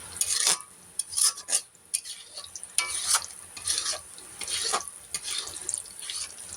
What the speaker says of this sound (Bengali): মরিচ পেঁয়াজগুলো আগে ভেজে নিছে